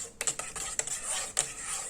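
A utensil stirs a red bean soap mixture in a pot, giving soft scraping and clinking strokes at an uneven pace, close and fairly quiet with no talk.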